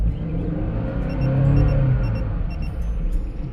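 A car engine is revved above 3,000 rpm, a steady rumbling drone that swells briefly, with short electronic warning beeps from an OBD2 smart gauge chiming repeatedly over it.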